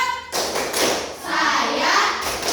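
A primary classroom in Indonesia runs the 'tepuk curah pendapat' clap chant: a short burst of hand claps and thumps, then sustained group chanting over a loud, busy wash of sound.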